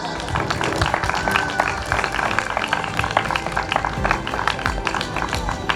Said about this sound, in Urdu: میں چاہوں گا کہ نوجوانوں کے لیے تالیاں بجائی جائیں۔